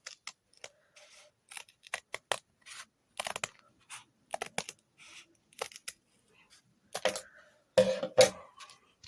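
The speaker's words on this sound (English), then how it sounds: "So let's get to cutting it open. First I got my little scissors here." Small handheld scissors snip through a microSD card package in a string of short, sharp cuts and crinkles. The bursts are irregular and close up, broken by brief pauses, with no talking.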